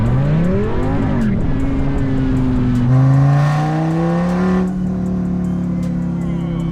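A rebuilt Dodge Viper ACR with a big engine and a custom exhaust revs up hard and climbs through the gears while driving, a loud, continuous roar that rises in pitch, dips at each shift and builds again.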